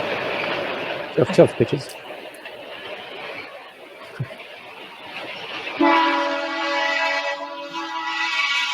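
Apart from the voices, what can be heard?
train passing with horn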